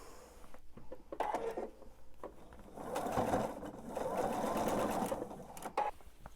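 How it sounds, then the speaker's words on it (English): A domestic sewing machine stitches a table runner seam in bursts, its needle running in rapid mechanical rhythm with short pauses and clicks in between, close and moderately loud, with no talking. "So I'm going to finish sewing that seam"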